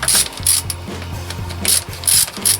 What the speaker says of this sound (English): I'm going to have to remove all those bolts securing the valve cover. So what I'm going to do is I'm just going to loosen up